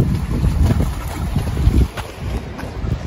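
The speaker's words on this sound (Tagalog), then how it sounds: "medyo malakas ang hangin ngayon, kaya maalon" Strong wind roars across the microphone in heavy gusts, with a rough low rumble over choppy open water in Japan and no voices.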